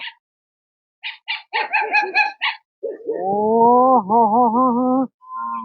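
A dog barks in a quick burst of several sharp yaps, then lets out a long, wavering whine-like howl, close by with no talking.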